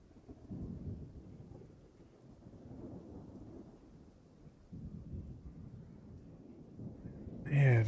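Typhoon card storm effect in Hearthstone: quiet, rolling thunder-like rumble with a rain-like hiss, building in uneven swells and ending in a louder burst, with talk faintly under it.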